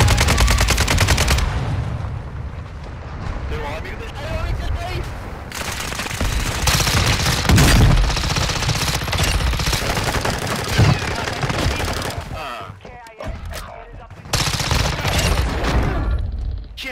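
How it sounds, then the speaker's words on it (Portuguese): Rapid bursts of automatic gunfire and shots from a video game, loud and dense, with brief quieter gaps and some voices underneath. "Mais à frente tem tiro, ó."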